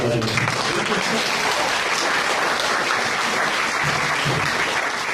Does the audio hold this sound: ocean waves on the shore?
no